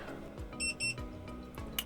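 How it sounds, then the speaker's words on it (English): A Toptes PT199 gas leak detector gives two quick, bright electronic beeps close together, clear over faint background noise. "once you hear that double beep and you see the small bar here, it is ready to use."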